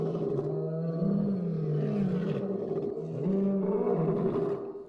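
At night in an African desert, a lion gives a long, continuous, rumbling roar that rises and falls in pitch, close and loud throughout.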